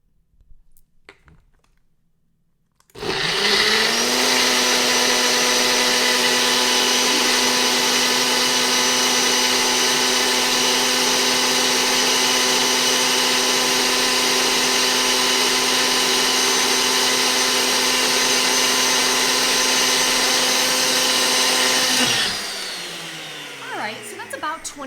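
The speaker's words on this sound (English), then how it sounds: "So I find that I'm using a Ninja blender. It's about 25 to 35 seconds. So hang tight with me. I'm gonna blend this up." A Ninja blender runs at full speed for about twenty seconds, blending a kale and flax smoothie with a loud steady whir that starts abruptly and cuts off at the end.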